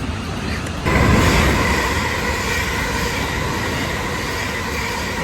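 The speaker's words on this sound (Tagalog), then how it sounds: "Nasa train na tayo." A train in the UK rumbles along in a steady, loud roar heard from inside the carriage, with a sudden rise in noise near the start and no talk.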